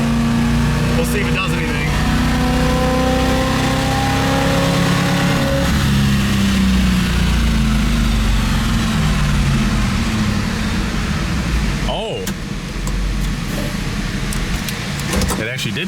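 A tired stock IROC car engine revving on a dyno, its steady induction roar droning loudly throughout with fans running, while people talk over it.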